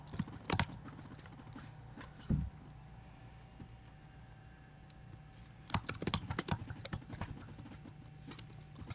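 Computer keyboard typing in two clusters of rapid clicks, near and crisp, separated by a quiet stretch with a single thump.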